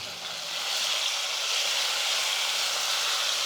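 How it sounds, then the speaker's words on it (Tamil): Chicken frying in oil, a continuous dense sizzle close by that holds steady without pause. "சிக்கன் வந்து எண்ணெயில் நல்லா பொறிச்சு எடுத்துட்டோம்"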